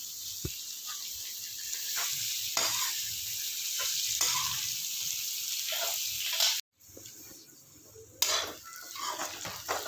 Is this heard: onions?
yes